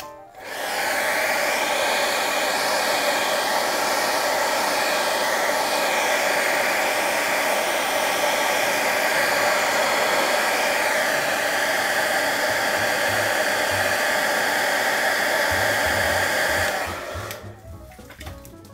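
Hair dryer blowing on a wet watercolour painting of the Taj Mahal, a loud, steady whirring roar held for about sixteen seconds before it is switched off.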